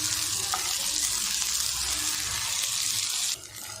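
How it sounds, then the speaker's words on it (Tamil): Chopped capsicum sautés in a pan with onion and green chilli, making a loud, even sizzle that cuts down abruptly near the end to a quieter hiss. "அதையும் இதை சேர்த்துட்டு வதக்கி விட்டுக்கிறேன்."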